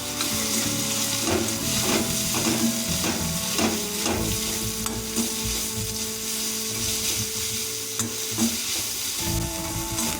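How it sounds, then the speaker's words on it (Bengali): Shrimp fry in a wok seasoned with turmeric and salt, a steady close sizzle running throughout with scraping stirring strokes, over faint background music and no talk. "চিংড়ি মাছগুলো ভাজা হয়ে গেছে। এগুলো আমরা কড়াই থেকে এখন তুলে নেব।"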